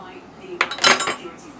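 A large spoon mixes steak burger meat in a bowl, giving a brief cluster of metallic clinks and scrapes against the bowl, close and fairly loud over a quiet background.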